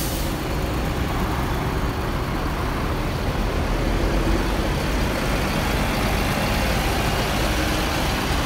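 Steady, loud rumble of a new Avante-variant bus engine idling, bodywork by PT Eka Permata Agung, holding an even drone throughout with no talk over it.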